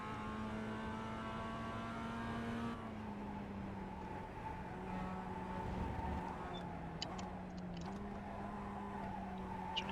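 A Mazda MX-5 race car engine in the iRacing sim drones steadily at moderate level, its pitch shifting as the car slows and picks up through a corner, with faint tire noise.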